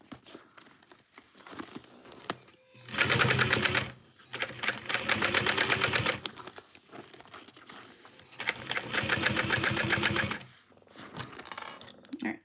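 A sewing machine stitches through thick backpack layers in three sustained, rapid rattling runs separated by short pauses, with lighter handling clicks between them.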